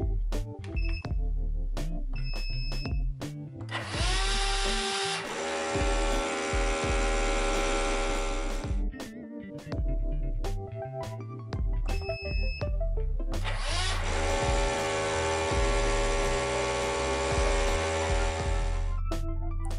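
A Vaquform vacuum former runs with a steady low hum, broken by two long loud roaring stretches as its vacuum stages kick in, plus scattered clicks and beeps; no one speaks.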